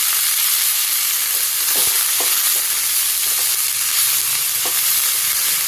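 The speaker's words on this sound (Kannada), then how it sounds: "ಇದೆಲ್ಲ ಒಂದು ಅರ್ಧ ಫ್ರೈ ಮಾಡಿಕೊಂಡ್ರು ಸಾಕು, ತುಂಬ ಬೇಯಬೇಕು ಅನ್ನೋದೇನಿಲ್ಲ." Finely chopped carrots and beans frying in a pan for fried rice, a steady, loud, dense sizzle with a few soft stirring scrapes, no voices.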